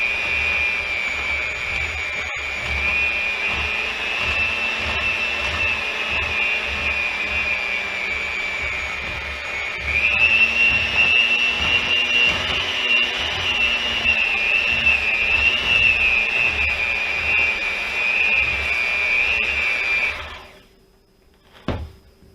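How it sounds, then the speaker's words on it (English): A handheld electric mixer whirs steadily for about twenty seconds blending flour mixture into cookie dough, with a constant high motor whine and faint rhythmic rumble before it switches off. "So I'm going to add half the flour mixture. I'm going to blend it,"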